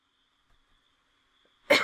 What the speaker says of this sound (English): I am so sorry I'm coughing,